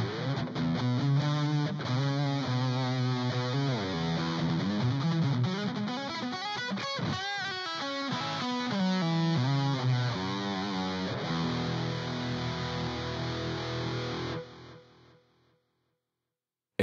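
Electric guitar played through a V-Guitar GR-D distortion pedal with the solo mid boost engaged, a loud, sustained, saturated riff of chords and single notes running steadily before the final chord rings out and fades at the end.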